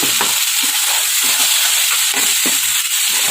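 Spices, coriander powder and tomato puree sauté in a hot pan for no-onion, no-garlic stuffed bitter gourd (bharwa karela): a steady, close sizzling hiss broken by soft scraping stirs of the spoon.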